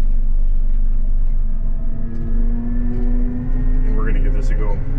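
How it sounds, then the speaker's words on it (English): Combine harvester being driven through a corn field, its engine a heavy, constant low rumble close up, with steady drivetrain hum and a faint rising whine near the end. "I am driving a combine."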